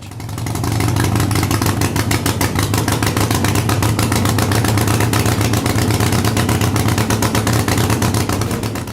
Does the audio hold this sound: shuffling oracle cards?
no